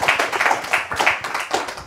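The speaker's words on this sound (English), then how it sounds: "Could you please give him a round of applause, guys?" Applause from a small audience at a talk on improvisation and mental health, a few people clapping in an uneven, close, moderately loud rhythm.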